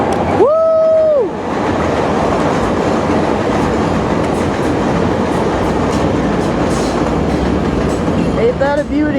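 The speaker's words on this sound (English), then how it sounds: "Oh, there's the fucking train." A train rolls past close by, a loud continuous rumble and clatter of rail cars with a brief two-tone horn blast near the start and faint wheel squeals at the end.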